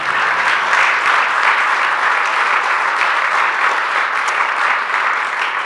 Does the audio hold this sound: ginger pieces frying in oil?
no